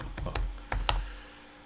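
A handful of sharp computer keyboard keystrokes entered as a password in quick irregular bursts, close and clear, with no talking, then a short quiet tail.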